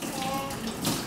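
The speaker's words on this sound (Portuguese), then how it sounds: "Fecha a torneira aí, ó. Tá gastando água aí." A kitchen tap runs steadily into the sink during dishwashing, a close, continuous wash of water that swells briefly near the end.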